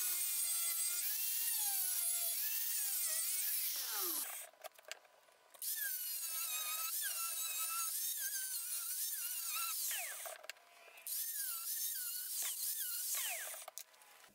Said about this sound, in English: I'm just going to mark it out this time and then cut that with the angle grinder.